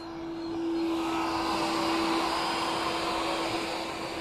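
dBot W100 window-cleaning robot running on a window pane, a steady whirring suction hum with a constant tonal whine, close and continuous with no talk.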